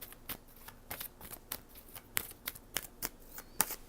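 Tarot cards are shuffled by hand, a rapid run of crisp papery riffles and snaps in an uneven rhythm, close and fairly quiet with no voices.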